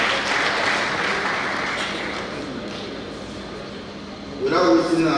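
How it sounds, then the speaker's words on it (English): Sustained applause from a lecture audience fills the clip, a dense wash of clapping that swells louder near the end. "I believe we should clap for him."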